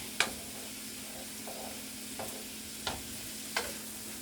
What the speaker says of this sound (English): Mix up the soup a little bit.